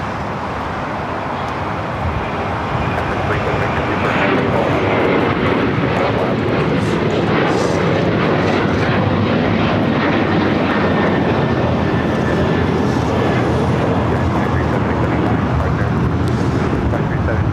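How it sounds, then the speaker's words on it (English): Swiss Boeing 777-300ER airliner arriving at LAX from Zurich, a loud continuous broadband jet roar holding steady for the full span, with a person talking over it. "Swiss flight 40 coming up from Zurich, 777 at 300ER."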